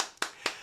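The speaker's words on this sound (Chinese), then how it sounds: "掌声！" Two sharp hand claps ring out, quick and close, as a table tennis Olympian is introduced at a table tennis workshop event. They are brief and isolated, with no talk.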